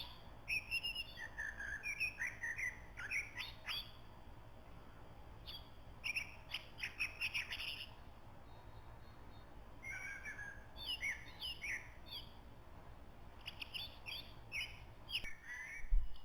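Soft, quiet songbird twittering after its molt, in scattered bursts of short high chirps and trills over a steady low background hum, with brief pauses between phrases.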